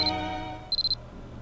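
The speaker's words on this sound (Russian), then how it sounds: "Будильник в моем телефоне зазвучал, как будто мне в ответ." Phone alarm in the horror video game Corpse Party: Book of Shadows, short high electronic beeps that sound once briefly, then again in a quick pulsing burst, over a quiet low background hum.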